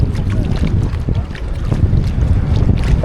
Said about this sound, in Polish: Ale się wiaterek zerwał.